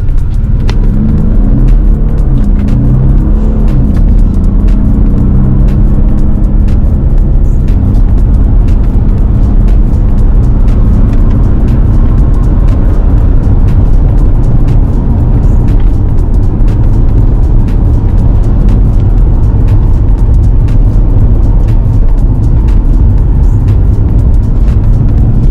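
A Maserati Levante in sport mode accelerating in first gear, its engine a loud, deep, sustained rumble that rises in pitch, heard from inside the car without a break.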